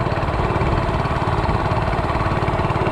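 A 105cc mini bike engine idles steadily during break-in with a continuous low rumble and rapid, even pulsing, close by and fairly loud, with no voices.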